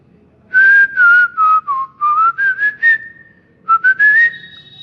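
A mimicry artist whistles a sliding, tuneful melody alone, imitating a whistle: about eight clear phrases in a row, a short pause, then three more rising phrases, loud and close.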